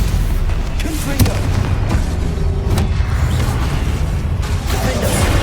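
Repeated Confringo fire spells blasting during combat in the video game Hogwarts Legacy, sounding as a dense, loud run of booming explosive bursts and crackling impacts over continuous battle noise.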